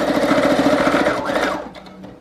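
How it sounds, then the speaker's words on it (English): A sewing machine stitching down a paper collage tag made from mushroom book pages, running in a fast, loud, close mechanical rattle that slows and stops near the end. "Okay, I'm gonna sew down here and then I'll grab that box."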